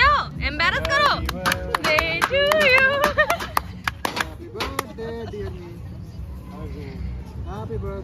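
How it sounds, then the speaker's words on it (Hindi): A small group claps in uneven bursts at a late-night birthday celebration at a riverside stay in Tirthan Valley, Himachal, with sharp close claps mixed under loud overlapping voices and chatter. "तालियां बजाओ"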